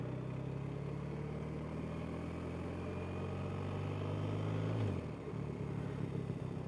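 BMW motorcycle ridden on the road, a close, steady engine drone with rising pitch before it drops and settles after a gear change near the end, plus wind noise and no talking.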